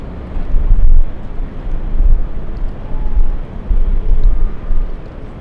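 WestJet airplane at LAX, a loud low rumbling roar that swells and fades in waves, mixed with wind buffeting the microphone.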